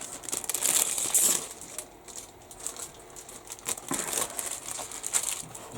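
Plastic resealable bags from an Eduard 1/48 MiG-21MF model kit crinkle and rustle up close in repeated bursts, with brief quieter gaps between handling.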